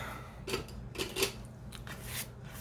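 Scissors snip through gel-plate paper in a few quiet, close cuts, short crisp strokes spaced about half a second apart over a faint background hum.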